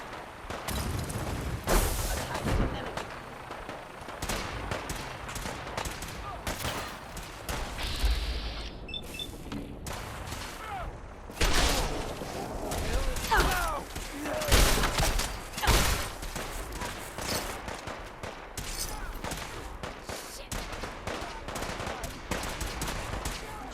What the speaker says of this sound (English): We're going shooting.